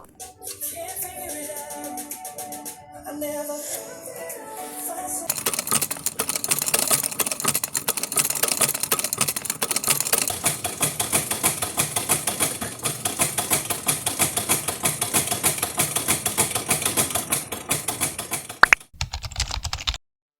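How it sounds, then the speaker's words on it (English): A sewing machine runs in a long, fast mechanical rattle of rapid stitches, after a few short starts, then stops abruptly near the end. "Now we are going to sew the edges of all the ruffles."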